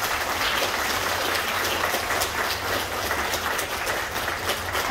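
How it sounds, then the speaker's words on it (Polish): Warm, continuous clapping from a children's choir concert audience for two performers, steady and evenly dense throughout with no voices over it. "Również gorące brawa dla Pawła i Oli."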